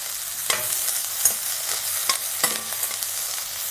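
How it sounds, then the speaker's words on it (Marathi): Paneer and vegetables sautéing in a pan over a low flame for veg pulao, a soft steady sizzle with a few sharp spatula scrapes and clicks, close and alone. "तर पनीर सुद्धा आपण थोडं इथं परतून घेऊया."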